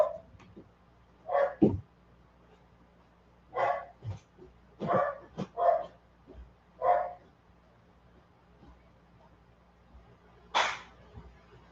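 A dog barks and yips close by in a quiet room, with about nine short barks in irregular bursts separated by pauses.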